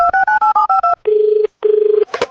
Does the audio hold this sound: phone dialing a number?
yes